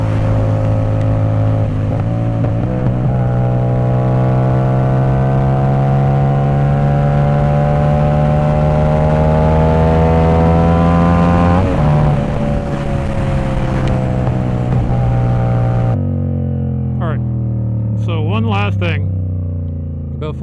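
A loud Ducati 450SS motorcycle engine holds a steady, rising drone for about sixteen seconds, then drops to a lower idle while a voice talks over it near the end.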